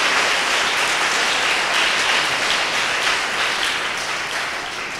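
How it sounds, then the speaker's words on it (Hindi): A large congregation at a Christian Bible convention claps in sustained, dense applause, loud and continuous, slowly tapering slightly toward the end. "बहुत अच्छा, ताली बजाते प्रभु को धन्यवाद देंगे।"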